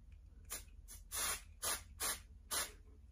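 Five or six quick hissing spritzes from a spray bottle onto wig hair, short puffs spaced irregularly, close and fairly quiet with no talking.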